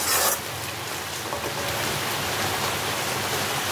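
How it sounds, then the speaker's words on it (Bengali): Steady rain falls continuously, a dense even hiss of drops on surfaces, close and unbroken throughout. "বৃষ্টি পড়ছে, কি সুন্দর"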